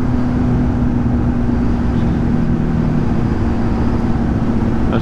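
Riding a motorcycle past another vehicle on a sunny mountain pass road, the Col de la Charvaux: a steady, loud engine drone with rushing wind noise and a constant hum, with no talking.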